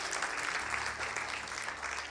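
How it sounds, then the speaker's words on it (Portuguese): A worship congregation gives a brief, moderately quiet round of applause to God, continuous clapping with a faint low hum underneath and no speech. "Dá um aplauso bem forte a Deus"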